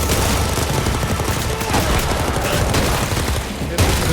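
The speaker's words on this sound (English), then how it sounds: "You just shoot continuously." Continuous gunfire in the video game Painkiller, an unbroken loud barrage of booming shots with no pauses for reloading, while a voice may be buried in the din.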